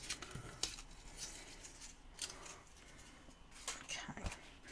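Scissors cut through paper while a notebook pouch is made with stamping supplies, several faint, crisp snips close by in a quiet room, with no talking.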